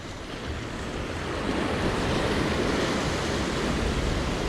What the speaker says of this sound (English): This little spot looks a little rough, but that's because of the way the water curls around this rock.